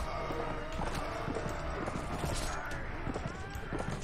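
Horse hooves pound rhythmically during a Mount & Blade battle, their clip-clop mixed into a busy wash of combat noise and a muffled voice, steady throughout and moderately loud.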